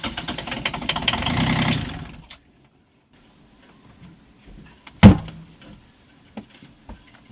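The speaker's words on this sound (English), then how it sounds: "After all the screws are tight, it's time to start the engine." An Ohlson 38 sailing yacht's inboard engine cranks and runs roughly for about two seconds, knocking and chugging, then cuts off, leaving near silence broken by a sharp knock or door-like thump and small handling clicks.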